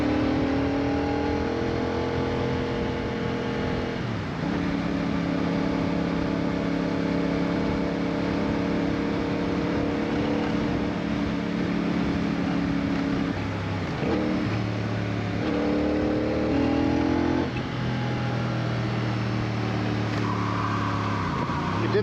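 CF Moto CL-C motorcycle rolling over bumps, its engine droning steadily with pitch dips and rises as the throttle eases and picks up, wind rush constant underneath.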